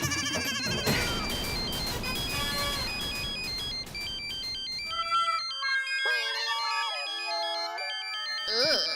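A mobile phone ringtone plays as a looping electronic melody of tonal beeps, loud and close, starting over busy background noise that drops away so the ring stands nearly alone.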